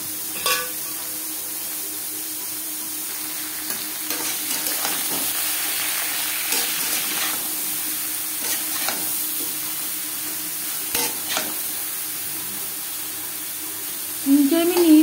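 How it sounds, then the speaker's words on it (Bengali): Bottle gourd frying with cumin and dry chillies in a pan, a soft continuous sizzle with occasional stirring scrapes and a louder clatter at the end. "দিয়ে দেবো লাউ"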